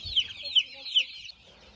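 Chickens cluck near at hand among free-ranging young birds, three quick rising clucks in a row, then quieter rustling.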